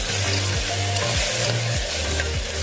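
Ginger garlic paste fries hard in a pan for veg pulao, a loud, constant sizzle with a regular stirring scrape repeating about every half second.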